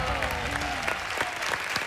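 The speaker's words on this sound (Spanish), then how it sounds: "¡Sí, pues! ¡Aplausos!" A studio audience at a Canal 13 television comedy show breaks into dense, continuous applause, steady and fairly loud throughout, with a few voices mixed in.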